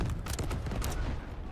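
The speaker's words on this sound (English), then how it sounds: "Oh my god, that's nades!" Grenade blasts in the video game Delta Force Hawk Ops, a sustained rumbling roar of overlapping explosions and crackling debris, loud and close, with no break across the short stretch.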